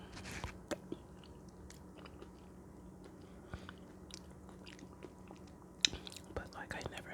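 Close, quiet chewing of oatmeal with egg nog: soft wet mouth sounds and small clicks spread irregularly, with a louder snap near the end and faint whispering underneath.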